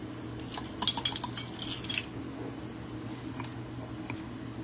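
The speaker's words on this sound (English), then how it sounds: "And then I just stir it together." A spoon stirs a cherry lemonade drink, clinking quickly against the glass in a short cluster of rattles. Fainter taps follow, and the sound is close and quiet with no talk.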